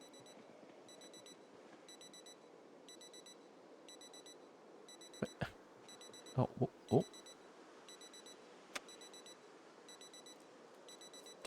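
An alarm in Project Zomboid beeps in regular repeating bursts throughout, fairly quiet, while a voice briefly exclaims over it with a few sharp bumps and clicks.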